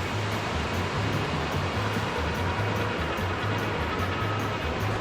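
Water pouring out of the Huagapo cave in Peru's mountains, a steady, dense rushing roar that holds constant throughout with no voices.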